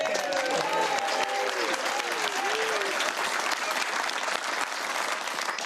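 A studio crowd at a comedy panel show claps and cheers in a dense, steady burst that lasts about six seconds, with some cheering near the start and no voice over it.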